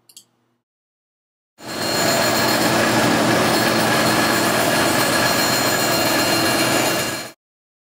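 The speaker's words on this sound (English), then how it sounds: "Lay out cut lines and trim P9 on the bandsaw." Bandsaw trimming a composite core panel in a repair shop, a loud continuous blade-cutting roar that starts abruptly after a brief click, holds steady for several seconds, then cuts off.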